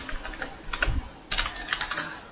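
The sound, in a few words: typing an SQL select command on computer keyboard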